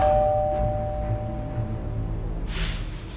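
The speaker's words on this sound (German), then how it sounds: "Da hat es an der Tür geklingelt." A doorbell chimes in a horror video game, a clear electronic ding-dong tone ringing at the start and fading out, followed by a soft rustle.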